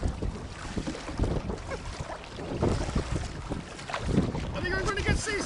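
Gusting wind buffets the microphone over choppy water during a kayak paddle in Nova Scotia, with steady rough noise, splashes and a faint voice near the end.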